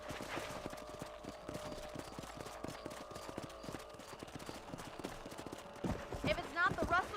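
Horse galloping in Red Dead Redemption, a steady rapid clip-clop of hooves running throughout under game music, with a brief whinny-like burst near the end.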